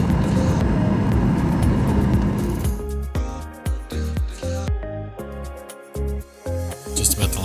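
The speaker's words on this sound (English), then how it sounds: "Just about to land in Boston at Logan Airport." Inside a Delta airliner cabin on approach to Boston Logan, a steady engine and airflow roar fills the first few seconds, then gives way to a series of pulsing, uneven rushes. A voice speaks faintly under the noise.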